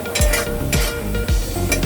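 A pan fries egg devil chop mix over a low flame, with a continuous loud sizzle and rhythmic scraping stirs roughly every half second.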